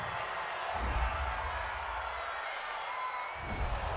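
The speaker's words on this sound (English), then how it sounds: "this crowd does not like that call" A football stadium crowd at a Browns–Steelers game roars in disapproval after a penalty call, a broad sustained rumble with no break.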